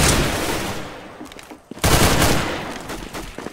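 Gunfire from the CS:GO video game crackles in dense overlapping bursts, loud at the start, briefly dipping near the middle, then resuming with sharp shots.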